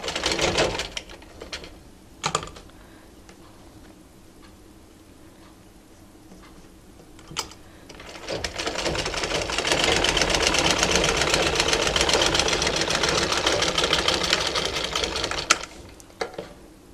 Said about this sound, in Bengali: এখান থেকে আবার সেলাইটা শুরু করব